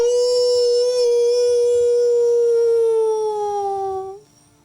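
A single long, loud howl sound effect rises in the woods, a steady tonal wail held for about four seconds before it drops in pitch and cuts off, leaving a faint tail.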